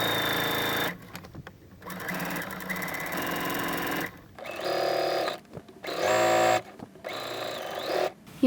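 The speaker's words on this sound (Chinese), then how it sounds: "然后就可以在袖子接口的地方也先稍微固定缝一下" A sewing machine runs in bursts of steady, fast stitching, stopping and restarting several times while tacking a dress sleeve seam during a garment remake; loud and close with no talk.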